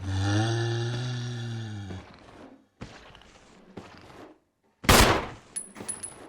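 A single sharp, loud gunshot in Resident Evil cracks out once, partway through, following a sustained tone and quieter scattered sounds, with a few faint clicks trailing after.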